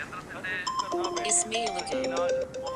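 An electronic phone ringtone plays a bright melodic tune, mixed with voices talking over it.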